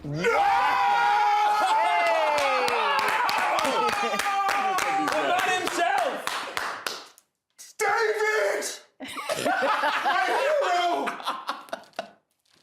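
A studio audience screams and cheers at the surprise entrance of a guest, the former Manchester United and England footballer, a loud dense roar of many voices that breaks briefly and swells again.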